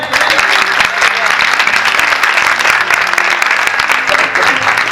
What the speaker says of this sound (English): Clap for Jesus. यीशु के लिए ताली बजाएं।